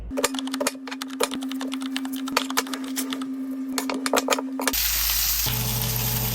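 Vegetables char and sizzle in a hot pan, a crackling, popping sizzle with scattered sharp snaps, then a sudden shift to a louder roar at the end.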